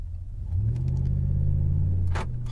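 A pickup truck engine in sport mode, revving lightly as it accelerates under gentle throttle, with a steady close low rumble that swells and holds for a couple of seconds before a short sharp noise near the end.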